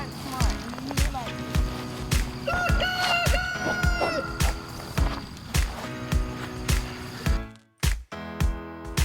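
Backyard chickens cluck and a rooster crows over a steady run of regular thumping taps, with people talking nearby and a brief dropout near the end.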